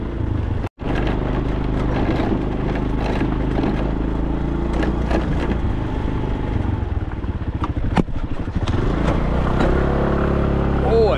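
An automatic motorbike in Thailand straining up a steep hill, its engine droning loud and close almost the whole way, with a brief dropout and clattering bumps, while a voice talks over it.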